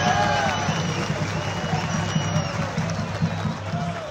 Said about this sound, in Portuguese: Vinícius Barbosa, uma salva de palmas